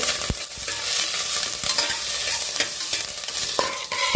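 Mustard seeds and curry leaves sizzling loudly in hot oil for a potato masala, a dense continuous close crackle with sharp popping seeds throughout.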